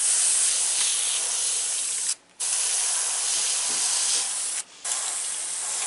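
Steady hissing spray of an airbrush applying paint to a T-shirt, running continuously and close, broken by two brief pauses in the flow.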